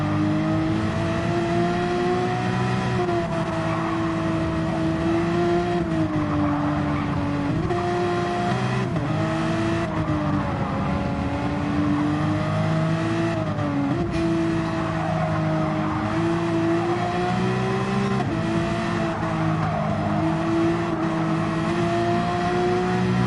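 A Porsche race car's engine howls continuously around Suzuka in a racing video game, loud and close, its pitch rising and falling through gear changes and corners with faint tire noise.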